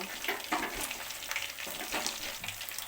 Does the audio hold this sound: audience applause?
no